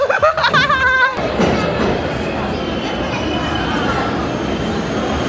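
Rumbling New York City subway train noise fills the scene after a short burst of chiming tones, a steady loud roar of a carriage in motion.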